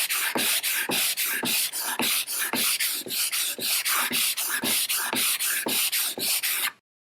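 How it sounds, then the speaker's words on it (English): A steel card scraper edge being filed square before honing: about twenty rhythmic, raspy file strokes in a steady back-and-forth pattern, loud and close, stopping abruptly at the end with no speech. "I'm going to keep an eye on the dullness of the edge of my scraper to make sure that I've filed the whole edge"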